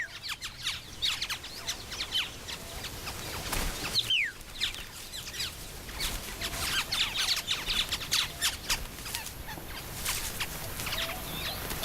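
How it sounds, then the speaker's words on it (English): Male birds of an Australian cousin of the oriole singing in the wild, loud overlapping calls and whistles from several birds competing, with sharp chirps and squawks repeating throughout against an outdoor background. "They just sing, each trying to be louder than the other."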